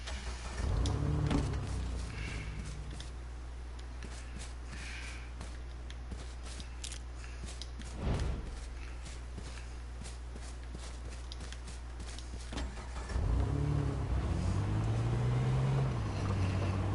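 Car driving in the video game H1Z1, a steady low engine drone running throughout with a brief thump midway and louder rumbling bursts at the start and end, no talk.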